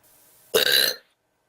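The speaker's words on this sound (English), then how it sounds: "A random burp from a random universe." A single loud, close burp bursts out abruptly after a quiet stretch, lasting about half a second before cutting off into silence.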